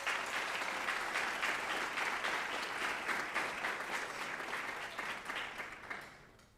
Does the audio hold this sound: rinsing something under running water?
no